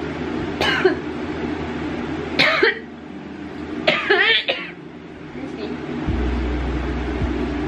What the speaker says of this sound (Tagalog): Inuubo ko na talaga